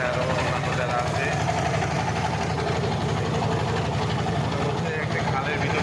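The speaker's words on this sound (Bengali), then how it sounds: "আমাদের সেই ট্রলার," A trawler's engine runs steadily on a canal trip, a continuous low throbbing drone with a fast chugging pulse, with voices mixed in underneath.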